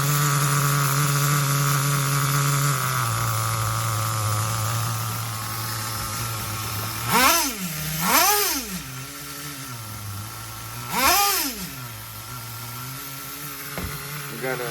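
An HPI RS4 nitro RC car engine at high idle buzzes steadily and loudly up close, then revs up in three quick blips before settling back, with a brief click near the end.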